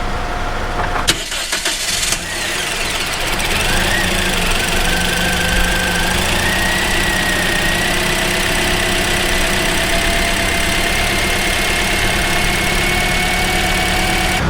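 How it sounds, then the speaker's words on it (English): A Toyota Corolla engine cranks briefly, catches and starts after about two seconds, then settles into a steady, loud idle heard up close, with no voices over it. "we'll make sure this starts and runs well"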